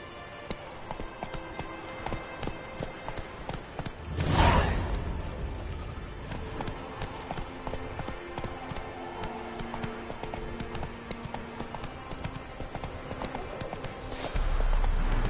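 Hooves of the horse Roach clip-clop at a steady gallop in the Witcher 3 video game, a continuous rhythmic patter with a whooshing burst partway through and a short voice near the end.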